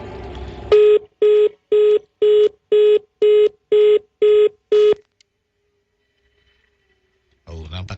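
Nine evenly spaced telephone tone bursts beep in a steady rhythm, loud and clear, then the line goes abruptly silent as the call drops, followed by a voice resuming talk at the end.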